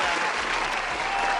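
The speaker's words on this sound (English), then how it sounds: "Round of applause for Ernest" A short burst of dense audience applause for a guest at a show wrap-up, full and continuous from start to finish.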